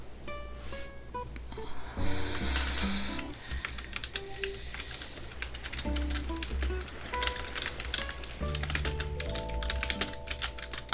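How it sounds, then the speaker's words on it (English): Close, continuous clatter of computer keyboard typing in a quiet ASMR-style setting, with rapid key clicks coming in uneven bursts from start to finish. "I'm sorry about all of the keyboard noises."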